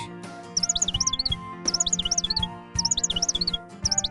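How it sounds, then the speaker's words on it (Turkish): Bright, rapid chirps in short bursts repeat several times over a bouncy musical backing, sounding like a cartoon bird tweeting. "Kuş"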